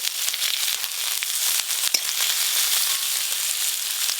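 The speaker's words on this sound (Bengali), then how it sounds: "পেঁয়াজ কুচিগুলো প্রথমে একটু ভালো করে ভাজা ভাজা করব" Chopped onions fry in hot mustard oil with a dense, continuous close sizzle and crackle, along with a few sharper pops and light stirring scrapes. No one speaks.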